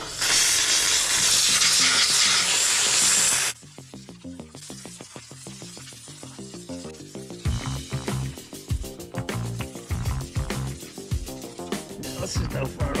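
A steam cleaner sprays the engine of a Craftsman PYT9000 riding mower with a loud, steady hiss for the first few seconds, then cuts off, leaving rhythmic clattering sounds that grow busier toward the end.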